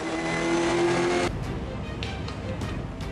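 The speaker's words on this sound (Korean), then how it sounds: "강렬한 엔진 소리와 함께 치열한 속도 경쟁에 불이 붙었는데요." A race car engine roars loudly then cuts off abruptly at the start of a circuit race final, followed by quick revving bursts from more cars further away.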